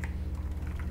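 Quick keystrokes on a computer keyboard as a code is entered for a Free Fire event, several light clicks in a short burst over a steady low hum, no talking.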